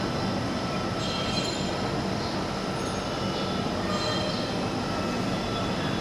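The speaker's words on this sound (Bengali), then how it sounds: "আমরা নেমে গেলাম মেট্রো রেল থেকে" A metro rail train at a station, a steady broad rumble with a faint high whine from the wheels and cars, close and continuous, no talk.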